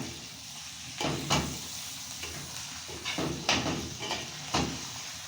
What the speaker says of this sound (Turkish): bunu güzelce sıvı yağ ile kavuracağım